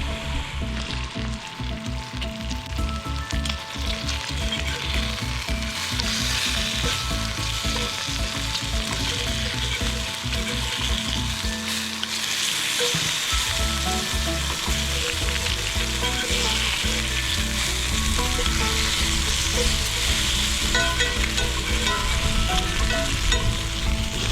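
Bacon frying in a pan over a campsite stove during a Colorado camping breakfast, a loud continuous crackling sizzle with spitting pops throughout, with no voices.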